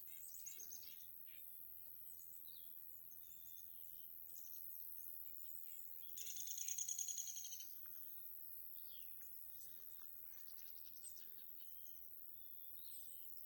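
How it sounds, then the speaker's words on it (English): Faint, high chirps from small birds come and go in a quiet outdoor setting on Mount Bigelow, Maine, among small bushes, with one brief burst of busier twittering midway. "there's so much birds around here"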